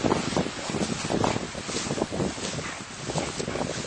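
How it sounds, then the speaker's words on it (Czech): Strong crosswind buffets the microphone outdoors during dog tracking, a loud continuous rumbling roar with gusty swells and no clear voices. "Ono ti fouká boční vítr, jo? Takže samozřejmě a docela silnej."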